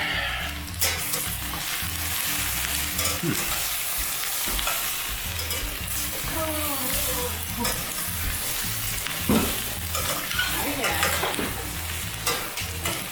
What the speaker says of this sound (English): Let's give these another stir.